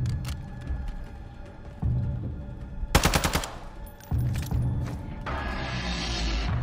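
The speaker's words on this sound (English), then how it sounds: "You see one guy and you exchange fire." A gunfire exchange in Call of Duty DMZ, with scattered shots giving way to a loud, rapid automatic burst, then more shots and continuous noisy combat.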